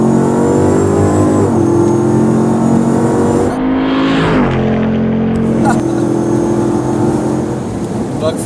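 A Hennessey Mammoth 1000 Ram TRX, a roughly 6,500-pound 1000 hp pickup, launches from a left-foot-brake start and accelerates hard, its engine droning loud and rising, with a brief shift break midway.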